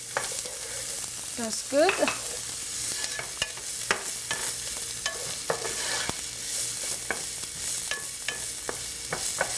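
Onions frying in a pan for sweet potato futari, a steady close sizzle broken by repeated stirring scrapes and clicks of a utensil, with a brief spoken remark near the start.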